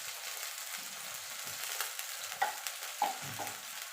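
Ginger and green chili sautéing in a pan with a splash of water for moong dal, a steady close sizzle with a few scraping stirs and light clinks, no voices.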